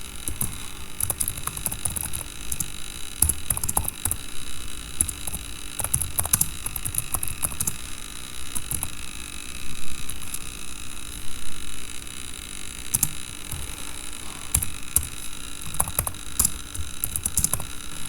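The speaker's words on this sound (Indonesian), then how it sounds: "Lalu kita ketikkan cout" Irregular clicks of someone typing C++ code on a computer keyboard, sparse and fairly faint, over a steady electrical hum with no talking.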